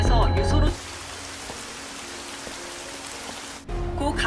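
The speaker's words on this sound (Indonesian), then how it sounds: "Sena pun pulang ke rumah dalam kondisi hujan yang begitu deras" Heavy rain pours down in a dense, steady hiss of drops, with speech at the start and end.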